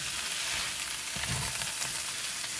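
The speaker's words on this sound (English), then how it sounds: "And just keep sauteing it until all the veggies have gotten a little bit tender." Flank steak sautés with onions and green peppers in a hot pan, a dense steady sizzle close up with a brief rustle of stirring midway, no speech.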